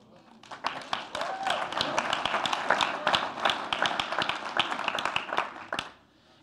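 An audience at a church conference session breaks into scattered, uneven hand claps that build briefly, stay moderately loud, then stop abruptly.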